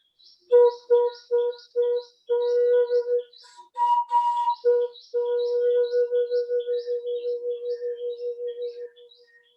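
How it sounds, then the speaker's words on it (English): A breathy bamboo flute plays a string of short notes, then longer sustained tones with a gentle wavering pulse, clear and close with no talking. "So to start, just learning how to produce the sound of the flute"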